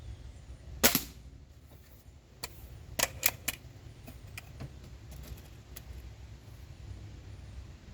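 A Diana Two Forty air rifle fired at 10 meters with open sights gives one crisp, moderately loud snap, followed by several faint clicks and taps under steady low hum.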